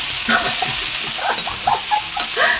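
Eggplant stir-fried dry in a pan, the home-style Korean way, with steady crackling sizzle and repeated scraping and stirring strokes close by, no one talking.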